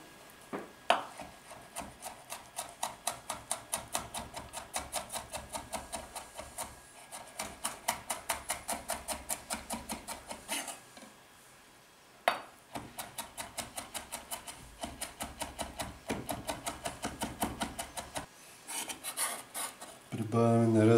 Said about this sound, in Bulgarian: ще прибавим чесъна, който ще нарежем наситно